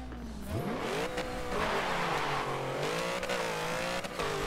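A Plymouth Prowler built as a full dragster launches off the line in Forza 7, its engine revving sharply upward through gears with a loud, close, rising roar and brief shifts.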